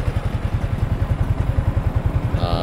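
A motorcycle engine runs close by with a fast, even chugging pulse and a rattly clatter, loud and steady throughout, with no talk over it.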